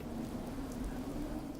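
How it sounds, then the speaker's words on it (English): Rain falls steadily in the Fallout 4 video game, a soft, continuous hiss with a low rumble beneath, even and unbroken throughout. "Sorry it's raining."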